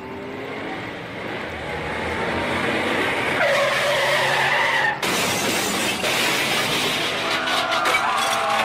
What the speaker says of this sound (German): Der Wagen! Er ist von der Strecke abgekommen, über das Kiesbett geschlittert und die Mauer gefahren.